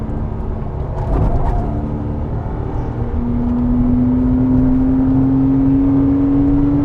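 A BMW Mini Cooper S on EBC Blue pads driving fast around Goodwood Motor Circuit, its engine a steady loud drone from inside the car that climbs in pitch as it accelerates, with no talk.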